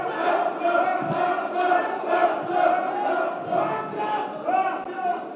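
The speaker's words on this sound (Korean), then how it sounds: "뜨거운 박수로 맞아주시기 바랍니다." A crowd at a party rally in a hall chanting and cheering together to welcome a speaker, a continuous rhythmic mass of voices with rising swells, fairly loud and close.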